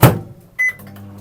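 A microwave oven, used briefly to dissolve gelatin for a cranberry jelly, gives a short thump like its door closing, then a single clear electronic beep followed by a low, faint hum.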